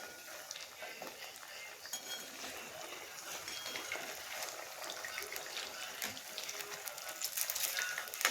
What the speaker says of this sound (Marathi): आता आपण हे याच्यात सोडणार आहे आणि छान तळून घेणार आहे आपण.